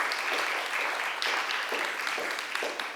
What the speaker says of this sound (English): you've given a real good presentation, and we can give a good clap to her